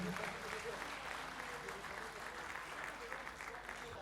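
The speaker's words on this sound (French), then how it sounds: "Applaudissez très fort pour les chanteurs" Audience applause for the singers at a live French-language comedy show, a steady wash of hand clapping throughout, moderately distant and even in level with no voices standing out.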